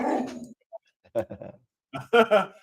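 A dog close by gives short whimpers and low grumbling growls in several separate bursts with brief gaps between them.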